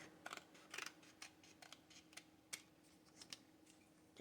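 Scissors snip through a paper craft tag in a series of quick, crisp cuts, irregularly spaced and fairly quiet and close, with no talking.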